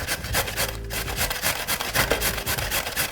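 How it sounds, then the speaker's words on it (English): A carrot grated on the large holes of a grater for coleslaw, heard as rapid, rhythmic rasping strokes, close and steady, with no talking. "I have a tendency to put the carrot like a 90-degree angle, but if you put it on a 45-degree angle, it makes it a bit easier to grate"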